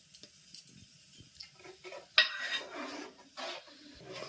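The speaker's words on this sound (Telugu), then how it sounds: "ఇట్లనే కలుపుతూ ఉండాలా కింద మాడకుండా." A spoon stirs pumpkin vermicelli kheer in a cooking pot, giving sparse metallic scrapes and clinks in an irregular rhythm, close and fairly quiet, with one sharper clank partway through.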